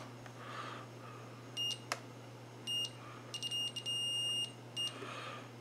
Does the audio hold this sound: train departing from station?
no